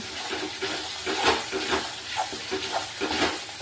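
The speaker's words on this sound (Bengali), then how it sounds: "দেখো ভালো করে নেড়ে ছেড়ে কষিয়ে নিচ্ছি যতক্ষণ না চারিদিক দিয়ে তেল ছেড়ে আসছে।" Fish kalia being stirred and fried in hot oil in a pan: a steady sizzle with repeated scraping stir strokes roughly every half second, close and fairly loud, with no voices.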